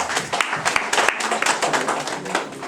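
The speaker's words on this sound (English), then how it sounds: "Okay, please clap for him." Audience at a Nigerian community career workshop in Ternopil, Ukraine, clapping for a speaker; a scattered, lively round of hand claps close by, with voices mixed in.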